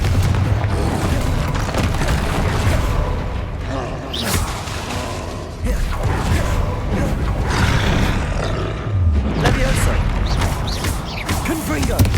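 Repeated Confringo fire-blast spell explosions in Hogwarts Legacy on Xbox Series X, booming blasts and crashing impacts recurring through dense, loud battle noise, with a voice calling out spells over the din.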